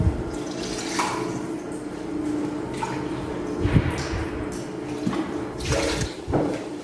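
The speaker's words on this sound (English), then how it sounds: "First, we will take 1 and a half cup water." Water being poured into a cooking pot, one and a half cups measured out for sweet jarda rice, with a splashing, trickling flow in bursts, close and moderately loud, no voices.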